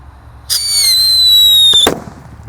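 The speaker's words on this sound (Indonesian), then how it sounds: "kita akan menyalakan yang suaranya menggelegar" A firework shoots off with a sharp whistling screech lasting over a second, ending in an abrupt burst, loud and close.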